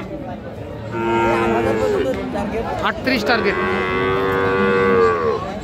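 A Friesian cross-breed bull calf at a busy cattle market lets out a long, loud, close moo that continues for several seconds, with people talking and crowd chatter around it.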